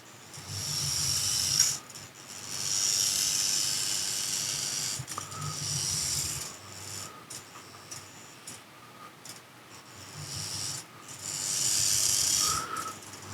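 A WLToys XK 6401 micro FPV RC car drives around, its tiny motor giving bursts of high whining hiss that rise and fade repeatedly, with ticking from the small drivetrain and quieter gaps between runs.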